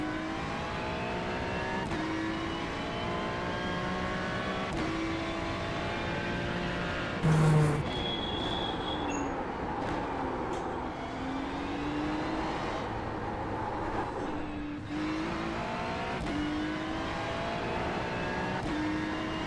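A BMW race car in iRacing laps the Nürburgring, its engine revving hard through repeated upshifts and downshifts, with a loud, steady sustained whine and occasional tire noise.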